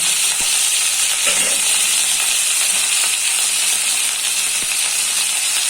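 Pointed gourd, beans, carrot and papaya fry with turmeric and black pepper in a pan for a Bengali fish soup, a loud, steady sizzling hiss throughout with a few faint clinks.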